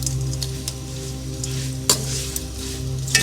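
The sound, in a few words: ikan bilis (anchovies) frying lightly in pan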